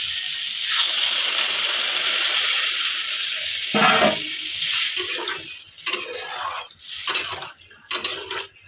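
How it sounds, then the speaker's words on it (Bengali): Water hits hot frying spices in a pan, setting off a loud burst of hissing sizzle that fades into steady bubbling, followed by clattering stirs and scrapes of a utensil against the pan. "এখন আমি জল দিলাম"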